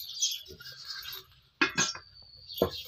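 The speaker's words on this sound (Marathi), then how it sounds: "त्याच्यासाठी मी आता ह्याच्यावरती झाकण ठेवते." A metal lid set onto an idli cooker pot of boiling water, giving a couple of sharp clinks and rattles close by, with a faint ringing tone between them.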